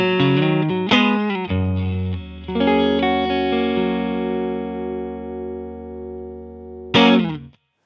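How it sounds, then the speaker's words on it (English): An electric guitar played through the clean boost section of a Rodenberg 707 pedal. Loud, ringing chords are struck a few times and sustain warmly with a long, punchy decay, and there is no talking. "I'm going to use the clean boost section of that Rodenberg pedal, the 707"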